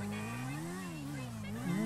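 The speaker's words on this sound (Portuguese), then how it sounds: "tão tentando roubar um carro ali, fazendo barulho" Car noise in the video game GTA V during an attempted car theft: a steady engine drone with rising and falling pitch, fairly faint and continuous, with a brief louder swell at the end.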